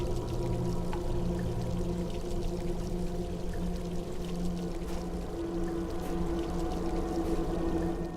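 In the video game Kholat, water pours in a steady continuous stream under a low droning ambience, with no voices.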